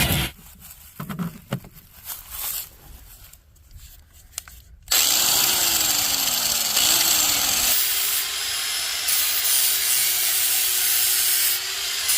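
An angle grinder running on an Oukitel P2001 power station spins up after a stretch of handling clatter, whining loudly and steadily, with its pitch dipping briefly under load, close and without talk.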